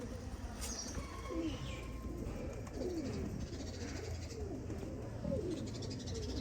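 A high flyer cross breeder pigeon pair from Pakistan cooing steadily, soft rolling coos repeating under a constant background hiss.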